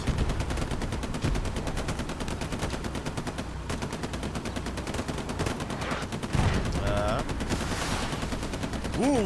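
Rapid gunfire and explosive rocket blasts crack through a Hell Let Loose battle, a dense continuous barrage of shots with a heavier impact midway, while faint commentary runs underneath.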